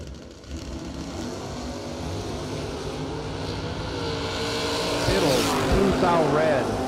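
Drag racing cars, including a Camaro, launch at a Christmas bracket racing event, a rising engine roar that builds louder toward the end, mixed with an announcer talking over a loudspeaker.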